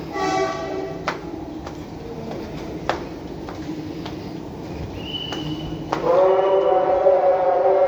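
KRL commuter train at a Jakarta platform (Cikini, platforms 9 and 10): steady rumbling rail noise with sharp metallic clanks and a brief tonal squeal, swelling louder near the end as the train runs, with no talk.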